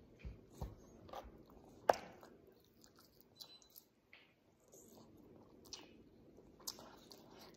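French fries from a burger meal are chewed close up in a quiet room, with a few sharp bites followed by soft, irregular mastication sounds.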